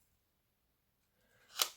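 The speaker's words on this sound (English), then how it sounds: "you can just cut these bits out with your scissors." Scissors snip through paper tickets in one quick, crisp cut that follows near-silence, close and fairly quiet.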